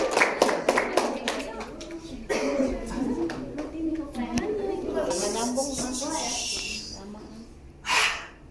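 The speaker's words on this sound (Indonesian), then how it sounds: "tepuk tangan dong teman-teman" Classmates in a school Indonesian-language lesson clap their hands after a Malin Kundang drama introduction, scattered sharp claps at the start mixed with voices and talking through most of the clip, then a brief burst near the end.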